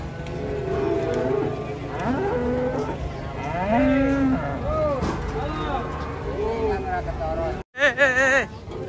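An agitated cow being unloaded from a truck moos loudly and repeatedly in long, wavering calls, while a crowd of people chatters around it.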